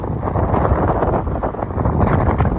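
Strong wind roars and buffets the microphone on a highway drive, pushing the car sideways, in a continuous loud rush of low noise, gusting slightly but never letting up.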